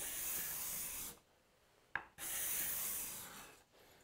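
Hand scraper pulling light, fluffy shavings off a wooden surface, heard as two long, soft, hissing rasps split by a brief gap with a small click, close and fairly quiet.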